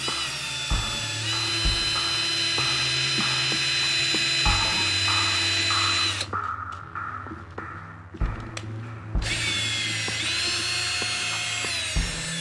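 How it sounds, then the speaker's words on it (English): Power drill boring a guide hole into wood, with a loud whining motor that starts and stops in several bursts, a brief lull near the middle, then spins up again close by. "You have to drill a guide hole first."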